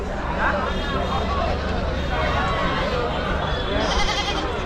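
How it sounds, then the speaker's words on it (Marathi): Goats bleating amid steady crowd babble at a large goat and sheep market in Chakan, Maharashtra, several calls rising over a constant hubbub of people talking. "पाळीव शेळ्या तुम्ही पलीकडच्या साईडला पाहू शकाल मोठ्या प्रमाणावर आलेले आहेत"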